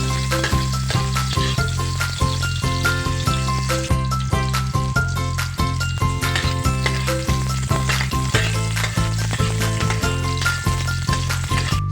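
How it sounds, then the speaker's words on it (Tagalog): Chopped garlic and onion hit hot oil in a pan and sizzle loudly and steadily, with continuous crackling and popping up close and no voices. "mainit ng ating mantika at ilalagay na natin ang ating bawang at sibuyas."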